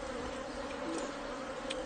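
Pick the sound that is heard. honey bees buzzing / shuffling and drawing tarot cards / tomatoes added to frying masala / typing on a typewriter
honey bees buzzing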